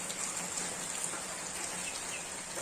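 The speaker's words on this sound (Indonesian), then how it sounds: "sekarang sudah jam 12 malam nih teman-teman, dan hujannya belum reda" Steady rain falls at night on a farm, a dense continuous hiss of drops on surfaces, close and even throughout, with no voices.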